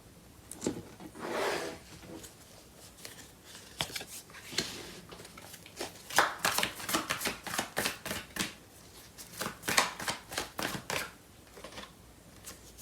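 Tarot cards are shuffled and dealt close up, giving bursts of riffling and rapid flicking with soft slaps as cards land. The bursts come in irregular clusters, with no voice heard over them.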